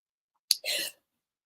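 A single sneeze set off by wind-blown sand and dust: a sharp burst followed by a short breathy exhale, close and fairly quiet against silence.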